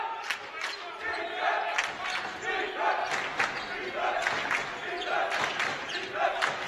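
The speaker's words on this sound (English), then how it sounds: "Hear the crowd hollering for a defensive effort there by the running Vikes" Spectators at a 2014 college men's basketball game between Big Bend Community College and Blue Mountain holler and cheer steadily throughout, a dense, loud crowd roar with sharp shouts rising above it.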